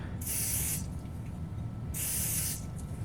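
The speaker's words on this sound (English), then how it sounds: "So we're going to start by spraying our knife here." An aerosol spray hisses onto a freshly produced knife during post-production prep, two short close bursts separated by a pause, over a low background hum.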